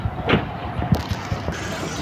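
Vehicles bringing livestock into a busy animal and meat market in Mecca: a constant close engine and traffic rumble with mechanical clunks and knocks over steady background noise.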